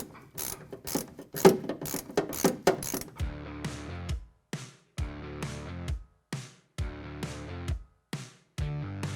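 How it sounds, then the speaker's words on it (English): Ratchet with a 14 mm deep-well socket unscrewing a Toyota Tacoma shock top nut, a close run of rapid clicking followed by several separate bursts of ratcheting with short pauses between them. "I'll use a deep well 14 on our ratchet to just twist this off"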